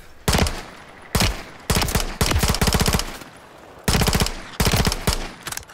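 Bursts of automatic gunfire from the video game Call of Duty Modern Warfare III, several loud rapid-fire volleys separated by short pauses, close and sharp with no talking.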